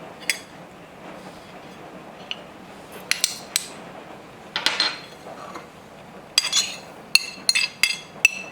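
Salt, red chili powder, Italian seasoning, garlic powder and dried parsley tipped into a bowl and mixed, giving scattered clinks and taps of utensil on bowl, sparse at first and then quicker bursts, close and moderately loud.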